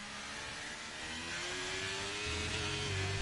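Race car engines whine in a racing video game at Abu Dhabi, a faint steady rising engine tone that builds gradually toward the end.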